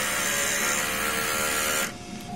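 A DTF printer running a print head clean, a steady mechanical whir with tonal motor hum that drops off abruptly near the end into quieter running, close and without voices.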